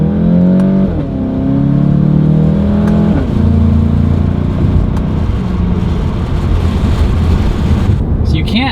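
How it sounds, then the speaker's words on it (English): A Mk7 Volkswagen GTI with a diverter valve spacer revs up and pulls through gear changes, pitch climbing then dropping between shifts, with steady road and wind rumble underneath. "I'm just gonna go through some gears."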